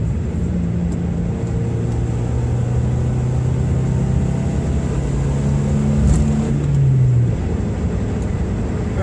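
A Subaru Impreza GC driving through town, a steady low engine drone with gentle pitch shifts as it moves, continuous and fairly close, with no talking.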